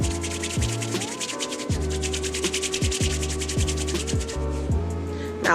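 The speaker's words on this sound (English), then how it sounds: "I'm gonna take the lock, put it in the palm of your hands," Hair in a soft loc is rubbed back and forth between the palms, giving a continuous close rasping friction that stays loud and steady throughout, with faint tonal hum underneath.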